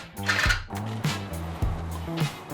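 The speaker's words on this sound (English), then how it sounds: "I got my Christmas tree drill bit, we're going for it." A step drill bit bores through steel on a 35-year-old LandCruiser, the drill motor humming at shifting pitch with periodic grinding bursts as the bit bites through each step, close by.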